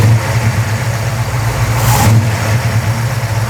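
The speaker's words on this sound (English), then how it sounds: "Let's bump the throttle," A muscle car engine with a dual-flow PCV valve being tuned runs steadily, then revs up briefly as the throttle is bumped before settling back, with no talking over the close, loud engine note.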